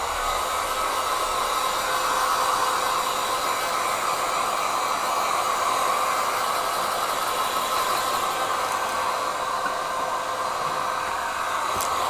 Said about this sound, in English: I'm just going to use the dryer